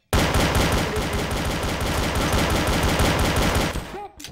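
Sustained rapid automatic gunfire in Garry's Mod, a dense loud burst of shots that runs without a break for nearly four seconds before cutting off.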